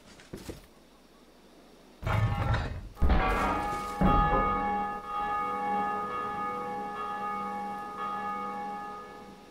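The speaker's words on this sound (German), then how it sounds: "Ich habe die Glocke geklingelt." A church bell in the video game Dark Souls II is struck several times in quick heavy clangs, then rings out in a long, loud, slowly fading metallic hum.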